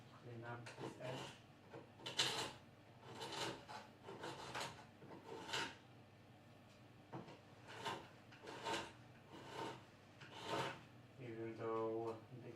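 A card scraper is pulled in repeated rasping strokes along a wooden door edge during restoration work, each stroke a short scratchy burst with brief pauses between and a faint voice near the end.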